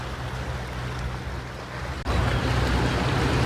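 An Avalon riverboat cruises on the Danube with a continuous wash of water and engine rumble. There is a brief dip partway through, after which the rush grows louder and fuller. No voices are heard.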